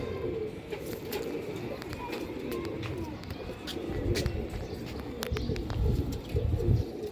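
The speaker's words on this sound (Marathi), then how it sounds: "कबूतर सगळ्या जातीचे कबूतर आहेत इथं" Punjabi breed pigeons of several kinds, with white and almond-coloured eyes, coo in a loft collection, a steady low murmur of many birds close by with scattered chirps and occasional clatter.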